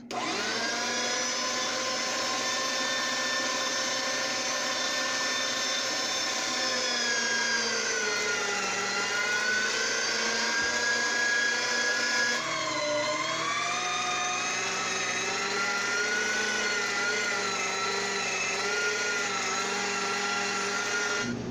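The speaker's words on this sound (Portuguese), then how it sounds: "a primeira coisa que eu vou fazer vai ser moer essa carne aqui" An electric meat grinder fitted with a number 8 plate grinds beef for pepper sausage, humming loudly and close in a steady motor drone with shifting tones as the meat feeds through, running alone without talk.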